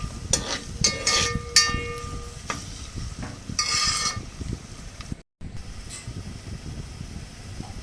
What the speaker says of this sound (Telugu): పచ్చివాసన పోయే వరకు బాగా వేయించుకోవాలి